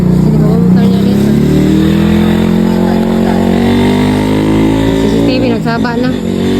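A motorcycle engine drones close by and steadily, its pitch slowly climbing and falling, while a voice talks over it the whole time.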